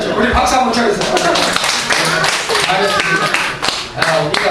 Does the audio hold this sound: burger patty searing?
no